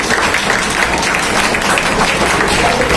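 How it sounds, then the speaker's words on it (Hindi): An audience at a Hindi-language health and diet talk claps to welcome the guests: dense, steady applause from many hands, fairly loud and continuous throughout, with no clear voices over it. "तालियों से स्वागत अपना कर सकते हैं।"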